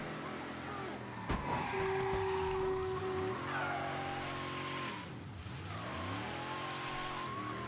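Car engine in the Mafia III video game revving and accelerating, with a brief tire squeal and a skidding swerve, then a sustained drive with a drop and rise in revs, loud and steady with no talk over it.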